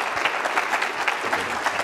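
An audience applauds steadily to welcome Buddy Ratner at an evening talk, a dense wash of clapping with no voices over it.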